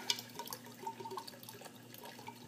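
Yeast poured into wort during homebrewing gives soft, faint liquid trickles and small drips, a quiet continuous patter with a few sharper splashes near the start.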